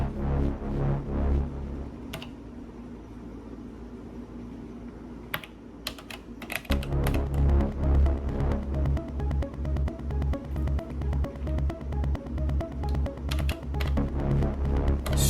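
A dense, gritty Elektron Syntakt drone that swells in after a sparse, clicky opening, then pumps rhythmically with a steady sidechain ducking pulse, no voices.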